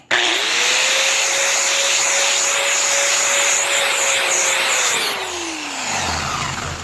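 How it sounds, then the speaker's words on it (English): Grinder fitted with a wire brush wheel stripping rust, a loud steady whine with harsh broadband scraping that runs for about five seconds, then the motor winds down. "We will take the old grinding wheel with the wire brush on it"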